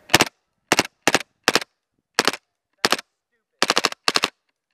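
Taurus PT92 pistol in an M9 Roni carbine conversion kit, fired rapidly: eight sharp bursts of two to four close shots each, loud and near, with short silent gaps between bursts and no talking.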